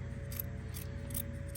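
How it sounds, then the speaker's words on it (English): Fabric scissors snip through the yarn loops of a pom pom in quick, faint, close cuts, three or four crisp snips spaced evenly over a low background hum. "we're gonna take our fabric scissors, and we're just gonna go through and cut these loops on the end"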